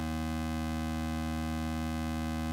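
A comparator circuit's output signal plays as a steady, buzzy electronic tone with a rich stack of harmonics, holding constant and fairly quiet for about two and a half seconds with no voices.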